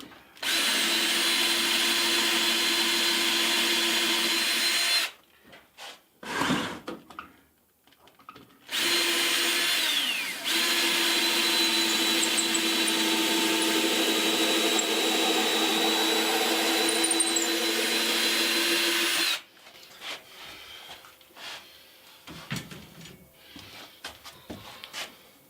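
A power drill bores countersink holes in shelving for a shipping container home, running in two long steady whining stretches with brief pauses and handling noises between them.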